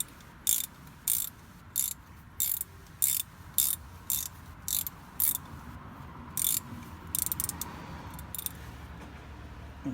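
Ratchet wrench clicking in short, regular bursts while tightening a brake caliper bolt on a Chrysler Town & Country, about a dozen crisp close-up ratcheting spurts with brief pauses between, no talking.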